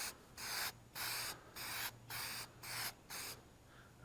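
An aerosol can sprays a second coat of headlight coating in eight short hissing bursts at a steady rhythm, close and fairly quiet, with brief pauses between them.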